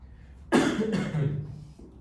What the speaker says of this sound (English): Right now I have the itch to cough